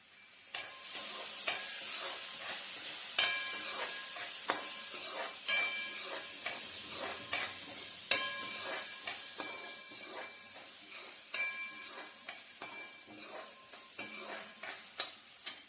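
Onion sautés in a pan with a little salt, giving a bright, hissing sizzle punctuated by repeated scraping stirs at a fairly regular pace.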